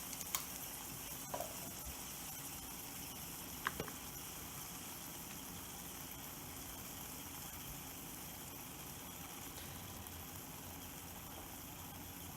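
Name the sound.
keto crunch wrap frying in brown butter on the stove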